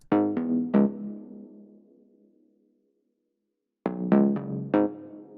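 Bright plucky synth notes from a Basic Mini patch with unison, in a modern deep house style: a quick group of three short, decaying plucks, a pause of silence, then four more plucks, close and clean.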